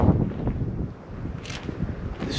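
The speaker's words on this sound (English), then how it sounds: "It's so windy today." Strong wind gusts buffet the microphone at an abandoned airfield, a steady low roar with louder bursts and brief hissy swells, no talk heard.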